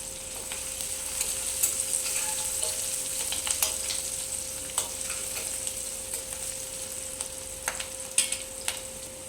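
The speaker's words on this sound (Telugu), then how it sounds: "ఇప్పుడు ఇందులోకి మనం కట్ చేసి పెట్టుకున్న పచ్చిమిర్చి వేసుకుందాం" Chopped green chillies and curry leaves fry with onions in hot oil for a potato curry, giving a continuous close sizzle with scattered sharp pops and crackles and no talking.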